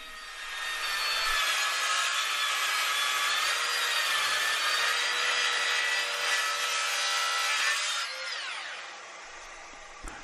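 A plunge saw rips through wood, cutting strips for a tealight holder: a loud, sustained high whine under load for about eight seconds, then the blade pitch drops as it spins down, with no talk.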